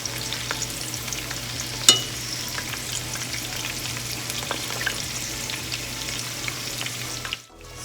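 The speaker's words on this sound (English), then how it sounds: "we're gonna fry this" Banana flower vadai deep-frying in hot oil, a steady dense crackling sizzle with one brief sharp pop early on before the sound cuts off abruptly near the end.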